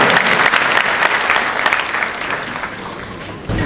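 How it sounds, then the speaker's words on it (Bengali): Loud, dense audience applause at an annual convocation ceremony in Rabindra Sadan as a memento is presented, sustained clapping that gradually thins before a brief final surge. "জোরে হাততালি হয়ে যান"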